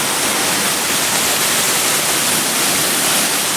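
Water pours into a brewing vessel at a brewery as grist goes in, a loud, dense, constant rushing hiss with no break.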